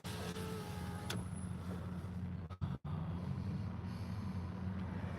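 Cars pull up on a street in Colorado, heard as a faint, steady low motor rumble with a brief dropout near the middle and no speech.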